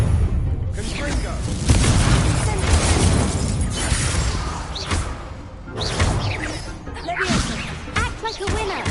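Confringo fire spells in Hogwarts Legacy burst in a rapid series of whooshing blasts and booming impacts, with voices over the combat.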